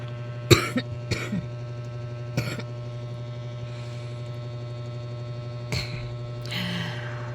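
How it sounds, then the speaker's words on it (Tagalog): A few short coughs, near and fairly soft, scattered over a steady electrical hum, with a throat clearing toward the end. "hindi ko mapigilang hindi umubo"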